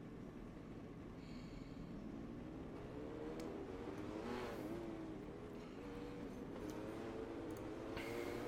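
Midget race cars rolling off turn four at Knoxville in a racing sim after a red flag, with engines droning and a rising rev near the middle, steady and moderately loud, no talk.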